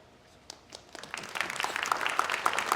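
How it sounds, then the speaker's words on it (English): An audience at a sustainable surfing open house applauds its panelists, the clapping building from faint scattered claps into steady, moderately loud applause. "A round of applause for our amazing panelists."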